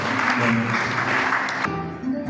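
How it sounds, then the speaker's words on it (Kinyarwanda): Applause from a church congregation thanking an evangelist, dense clapping from a crowd that holds steady and then drops off sharply near the end. "Tugukomeye amashyi tugushimira"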